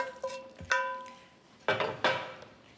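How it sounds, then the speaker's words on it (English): A spoon scrapes and knocks against a pan while garlic and bacon are stirred, giving a few distinct, ringing metallic clanks spaced apart, close and fairly loud. "Then I'll just stir it"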